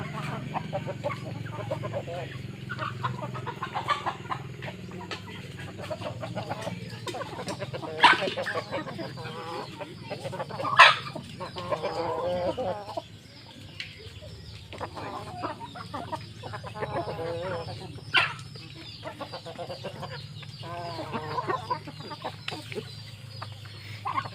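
Chickens cluck in scattered, overlapping calls around a farmyard, moderately close, over a steady low background rumble with occasional sharper squawks.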